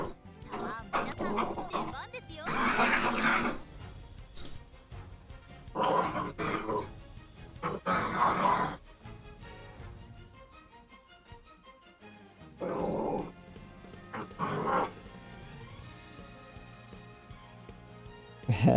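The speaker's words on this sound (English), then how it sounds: "Yeah, that's my dogs in the background." Two pet dogs play and yip in the background behind a gamer's steady talk, their whines and barks coming in short bursts at moderate distance during a match of Umamusume: Pretty Derby.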